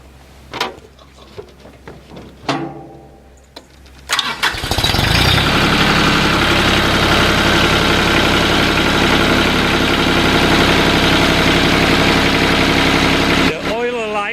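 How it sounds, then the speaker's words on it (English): A Mahindra tractor engine, freshly serviced with new oil, cranks briefly after a few clicks, catches and settles into a loud, steady, close idle that runs unbroken for about ten seconds before a short metallic rattle at the end. "and start the engine"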